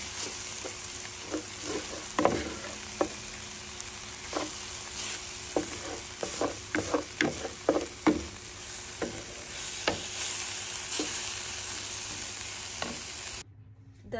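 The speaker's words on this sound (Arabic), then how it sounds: "صافي، نخلطوهم مزيان" Savory pie filling with a small spoonful of tomato concentrate is stirred in a pan, with scattered spoon knocks and scrapes over a steady low sizzle, cutting off abruptly near the end.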